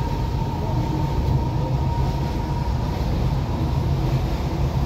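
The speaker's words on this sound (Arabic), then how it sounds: "وادي ترام ايه ترام الرمله اهي على يمنا داخله على محطه محمد" An Alexandria Raml tram passes on the street, a loud, continuous rumble of rolling wheels with a steady hum held throughout and no voices.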